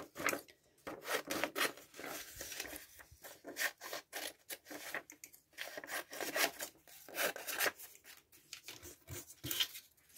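Scissors cutting paper pattern sections out roughly for foundation paper piecing, a quiet series of close, crisp snips and paper rustles in an irregular rhythm.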